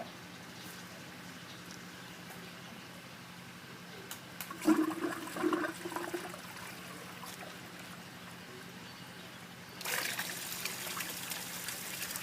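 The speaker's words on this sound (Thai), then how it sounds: "เดี๋ยวลองเปิดสวิตช์ดูนะครับ ให้น้ำไหลนะ" A German-style waterfall curtain water feature, just switched on, sends a steady trickle and flow of water, with a louder gushing stretch midway and a fuller rush toward the end, close by with no talking.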